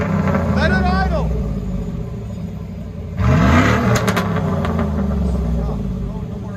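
A cammed Chevrolet Silverado engine rumbles loud and deep through its muffler, then surges in a rev midway before settling back. People talk over it throughout.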